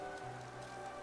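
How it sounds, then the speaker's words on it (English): Steady downpour of rain in the video game Hollow Knight hisses evenly throughout, a soft continuous wash with a low tonal hum of game ambience beneath, no voices. "what are you doing about in this terrible downpour?"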